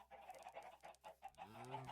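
Minecraft chickens clucking in short repeated bursts, a handful of clucks spaced irregularly, followed by a longer drawn-out fowl call, moderately loud with no talking.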